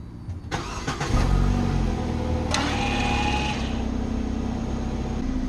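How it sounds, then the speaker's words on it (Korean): A car engine cranks and starts about half a second in, then settles into a steady idle, run during an electronic parking brake pad replacement so the brake can be released. "시동을 걸어서 사이드를 좀 풀어야 될 것 같아요"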